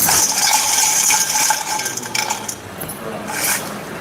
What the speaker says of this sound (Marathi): आपले सगळे कॉईन्स हे हंडीमध्ये टाकून झाले आहेत तर आता मॅम येतील आणि एक कॉईन काढतील कॉईन मिक्स करा